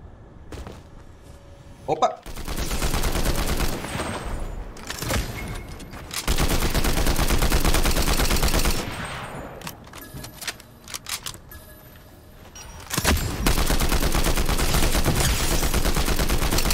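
Fortnite weapon gunfire: long stretches of loud, continuous rapid shots broken by short pauses, with voices talking over the action.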